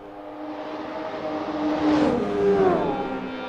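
Racing cars on the Nordschleife, including a Ford Sierra spitting flames, roar past with a rising, swelling engine note that peaks and falls away as they pass, loud and continuous with no talk.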